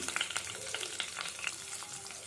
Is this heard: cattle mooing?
no